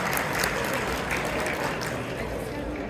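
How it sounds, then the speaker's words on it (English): A banquet audience at a Chicago Islamic organizations council anniversary fundraiser claps for donors, a dense, steady round of applause filling the room for about three seconds, with a voice faintly mixed in. "Okay, give them a round of applause."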